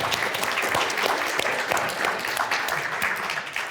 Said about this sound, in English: please could we have a round of applause for our amazing panelists?